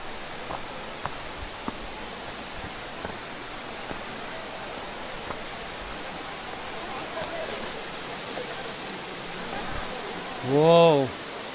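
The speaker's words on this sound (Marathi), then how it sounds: "धबधब्यातून पडणाऱ्या पाण्याचा आवाज ऐकून मन अगदी प्रसन्न झालं" Steady broadband rush of Devkund waterfall, falling water roaring continuously throughout, with a brief tonal sound near the end.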